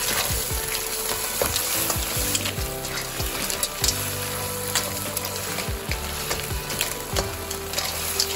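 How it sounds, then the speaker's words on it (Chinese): Clams and Thai basil are tossed quickly in a wok, giving a dense, steady frying hiss with clattering stir strokes and scrapes throughout, up close and without speech. "加入九层塔，快速翻炒，让九层塔都有沾附到汤汁就可以了"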